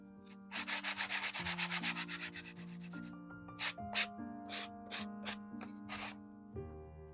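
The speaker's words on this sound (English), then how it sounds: "We just have sandpaper wrapped around a sanding block, and we're just going to give it a gentle sand." Rhythmic scratchy rubbing of sandpaper on a block over gesso on a canvas, a quick run of strokes then slower, separate passes, close and moderately loud with a faint steady hum beneath.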